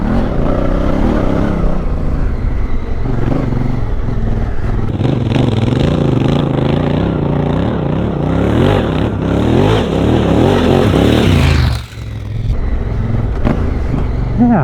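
A Honda Africa Twin motorcycle accelerating off-road in second gear at medium speed, engine droning loud and steady with rising revs, wind buffeting and gravel clatter, briefly easing off near the end.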